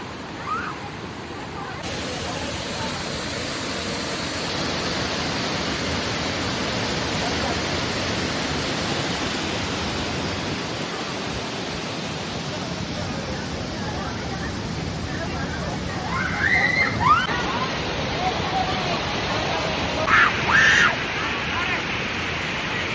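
Abbi Falls waterfall in Sakleshpur roars as a steady broadband rush that fills the whole stretch, with faint voices of people nearby under the water noise.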